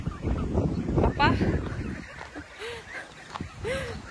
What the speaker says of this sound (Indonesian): Nih kebetulan di sini ada angsa. Nah, ini angsa-angsa.